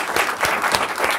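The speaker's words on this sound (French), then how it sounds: "On peut lui faire un tonnerre d'applaudissements s'il vous plaît." A debate-show audience gives a contestant a big round of applause, dense, loud clapping with a few stronger surges in a short continuous burst.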